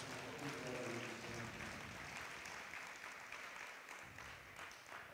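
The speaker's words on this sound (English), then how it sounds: "Clap your hands to Jesus." Congregation at a revival service clapping their hands, a broad sustained wash of many claps with voices mixed in, strongest at the start and gradually tapering off.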